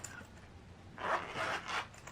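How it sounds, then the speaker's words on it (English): A quick zipper pull on a handbag rasps twice in short strokes, close and fairly quiet, over a soft background hiss. "zips nicely"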